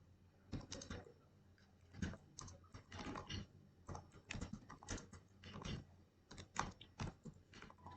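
Typing on a computer keyboard, heard as a close, quiet run of irregular key clicks and taps in short bursts, with no voice over it.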